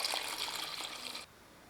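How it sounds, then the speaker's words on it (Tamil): Two cups of water poured into a pressure cooker of chicken biryani masala, a steady splashing gush that stops abruptly after about a second. "இப்போ இதில் நம்ம அரிசி எடுத்துக்கிட்ட அதே கப்பில் 2 கப் தண்ணி சேர்த்துக்கலாம்"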